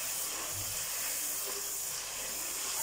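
Garlic sautéing in a clay pot for village-style catfish curry, a continuous close hiss of hot oil with faint steam, steady and without talk.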